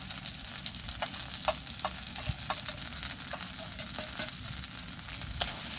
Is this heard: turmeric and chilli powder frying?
yes